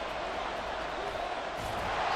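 A Buffalo football stadium crowd yells and roars in a steady, dense wash of noise, heard from within the stands.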